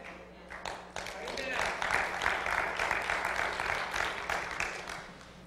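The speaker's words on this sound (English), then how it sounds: "Thank you for that applause." A church congregation applauds, a dense rattle of many hands clapping that swells and holds for several seconds.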